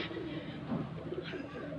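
A fancy pigeon breeding pair coos softly and steadily at close range, with low murmuring calls that rise briefly near the middle.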